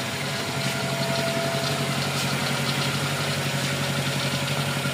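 A Nissan Sentra B13 engine idles smoothly and steadily after a carburetor overhaul, a constant close hum with no talking.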